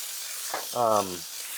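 Sausage cooking on a Blackstone flattop griddle gives a steady, close sizzling hiss, briefly joined by a short voiced sound near the middle.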